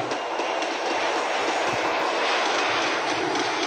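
A plane flies in a shooter video game, giving a steady broad roar of engine and rushing air that holds even and loud for several seconds, with no talking over it.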